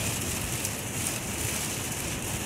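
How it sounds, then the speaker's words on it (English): Steady, dense rain falls continuously and fairly loud, a broad even hiss of drops on surfaces with no gaps, heard during a slow drive with very little visibility. "And then it started to rain."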